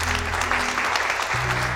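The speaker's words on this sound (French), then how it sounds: "Un tonnerre d'applaudissements pour nous!" An audience applauds at the opening of a theatre show, a dense wash of clapping with a low hum underneath and no voices standing out.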